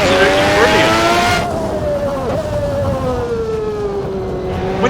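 A 1992 McLaren MP4-7 Formula 1 car in the Assetto Corsa racing game, its high-pitched engine wailing steadily and shifting down in pitch, with a voice talking over it.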